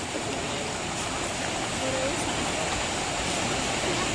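A river and small waterfall beside a jungle trekking trail at Jeram Berungut, a continuous dense roar of rushing water heard up close and filling the whole scene.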